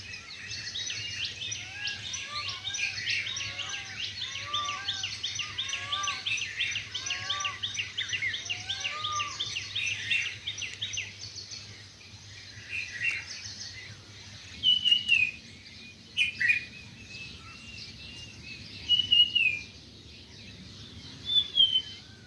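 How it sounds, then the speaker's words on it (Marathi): Peacock calls ring out in a few loud, sharp bursts over a constant chorus of twittering birds and buzzing insects. "ही मोरांची आवाज आहे"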